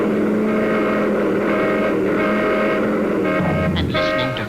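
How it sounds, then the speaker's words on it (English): Cartoon traffic sound effects: a dense, steady din of honking car horns and engine noise, loud and continuous throughout, with a few higher squeaky toots near the end. "we had to practice dodging traffic"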